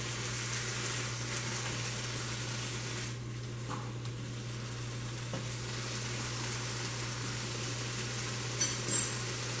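Chopped cheesesteak meat frying on a hot surface, a steady, moderate sizzle running throughout with a steady low hum beneath and a brief clink near the end.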